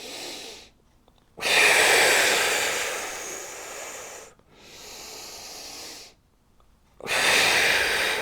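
Deep, audible breathing during a Pilates mat workout: long, loud breathy inhales and exhales alternating in a slow rhythm, close and with no talking.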